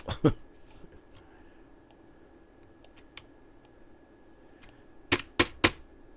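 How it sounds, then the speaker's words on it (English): Keys on a computer keyboard are pressed in sparse bursts: a couple of loud clacks, scattered light taps, then three sharp strikes close together near the end, over quiet room tone. "Man, my keyboard is not responding at all."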